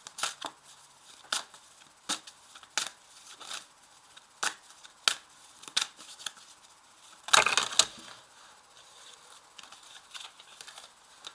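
Oracle cards from a mirror oracle deck are shuffled by hand, giving a series of soft, crisp flicks and taps about every half second, plus one louder riffling burst near the end, close and quiet with no talking.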